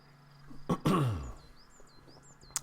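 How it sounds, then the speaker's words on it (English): A single throat clearing, close and fairly loud, a short harsh burst followed by a longer rasping, descending rumble, with faint chirps in the background. "Clear my throat."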